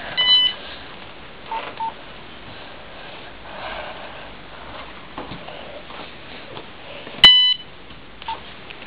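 Short electronic beeps from a Nokia 3310 mobile phone sound a few times amid faint rustling and handling noise, with one sharp louder beep near the end.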